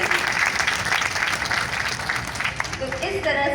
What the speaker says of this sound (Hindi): तो एक बार जोरदार अपने लिए तालियां बजा लीजिए